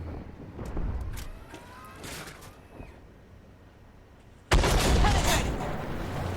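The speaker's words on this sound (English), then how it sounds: "now that T90 MS is taking shots in the side of me" A T90 MS tank fires cannon shots into the side of the player's tank in the Armored Warfare game. Rumbling engine noise and a few muffled booms lead up to one sudden, loud blast that rings out and fades.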